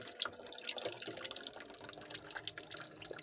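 Cold water trickling and dripping out of small tubes in a homemade Lego water-cooling fan, a faint, continuous splashing patter with scattered bright droplet sounds and no speech.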